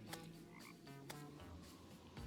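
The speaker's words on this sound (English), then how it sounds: "I hear frogs." Frogs croak in a dark video game setting, a dense, quiet chorus of rapid repeated croaks running steadily through the short clip with no talking.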